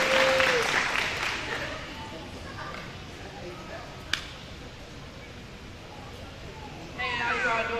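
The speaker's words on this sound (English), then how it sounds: "please give a big round of applause to our second student speaker" Audience applause at an 8th grade promotion ceremony for a student speaker, loudest at the start, then settling into a steadier wash of clapping, with a sharp click midway and voices over it.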